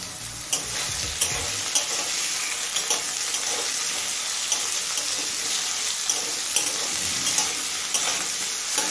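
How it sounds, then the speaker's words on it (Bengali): Small pieces of a medium potato fry on medium flame with dry chilli and black cumin, giving a steady close sizzle broken by regular light clicks of stirring. "এবার এই আলুটা মিডিয়াম ফ্লেমে কিছুক্ষণ ভেজে নেব।"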